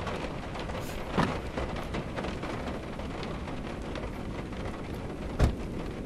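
Steady rain and rolling thunder of a storm in the horror video game Witch's Doll, a constant wash of rainfall with two sharper thunder cracks, one early and one near the end, and no talk.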